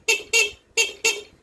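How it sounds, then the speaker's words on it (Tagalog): A stock motorcycle horn sounds in four short, loud, close honks, given as two pairs with a brief gap between them, with no talk over it. "Yan yung stock na busina."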